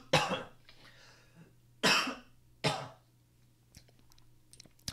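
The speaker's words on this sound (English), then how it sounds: "Let me clear my throat." Three sharp coughs and throat clears, well spaced and close, separated by quiet, with a faint hum underneath.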